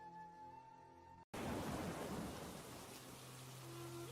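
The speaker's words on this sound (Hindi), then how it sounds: "बारिश का मौसम शुरू हो चुका था, जोरों से बारिश हो रही थी।" Heavy rain and thunder in a cartoon burst in after a brief silence, a loud dense downpour with a rumbling roll, after a short quieter musical lead-in.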